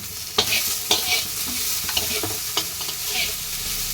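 Sago pulao with raw turmeric stirred in a frying pan, a close, continuous sizzle with repeated sharp spatula scrapes and knocks against the pan.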